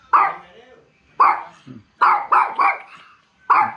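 A dog barks sharply about six times at close range, in short irregular bursts with gaps between them, including a quick double and triple run of barks.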